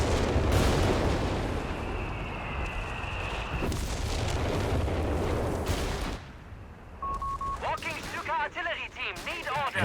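Artillery fire in the video game Company of Heroes 3 lands amid a 2v2 battle: heavy booms and rumbling blasts, followed by quieter crackling shots and whistling effects near the end.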